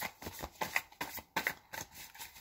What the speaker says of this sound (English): This card flicked over.